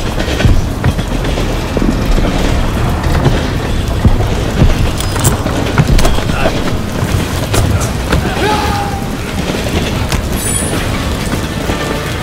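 A train in the Call of Duty: Vanguard campaign rumbles loudly and continuously, dense clattering and low roaring throughout with occasional metallic knocks and booms, no clear talking.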